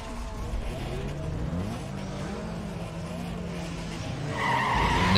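Six race cars launch together at the start of a four-lap closed-circuit race in Need for Speed Underground 2, with engines droning and rising in pitch and tires squealing, ending in a louder burst of revving.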